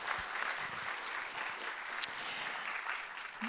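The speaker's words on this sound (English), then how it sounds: "How about another round of applause?" Audience applause for a panel at a learning-lab session: steady, dense clapping from a crowd that holds at an even level for the whole stretch, with no voices over it.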